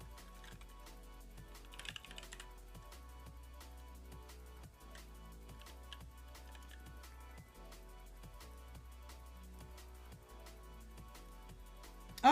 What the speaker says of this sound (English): I'm sure that my keyboard is being picked up by my mic